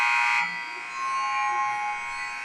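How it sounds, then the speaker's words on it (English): A long electronic buzzer sounds at a high school girls' basketball game, a loud sustained tone that holds for the whole stretch, its brightest onset at the start and then steadying, with faint gym noise beneath. "long buzzer."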